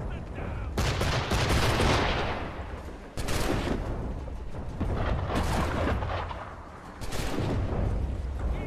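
Enemy soldiers fire on the player in Assassin's Creed III, a dense, continuous barrage of gunshots and booming blasts in the game, loud and sustained with brief shifts in intensity; a voice is faintly present.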